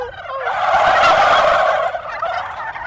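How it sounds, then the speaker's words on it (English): A wild turkey gobbles once in a loud, rattling burst lasting nearly three seconds, close and clear with no talking over it. "the male turkeys will hear it, and they'll probably get turned on and gobble back"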